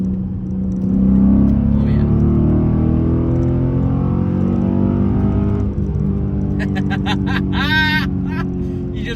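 Dodge Challenger SRT8 accelerates hard to pass on the road, a deep engine roar swelling then easing under a brief spoken exclamation, with a rising whine near the end.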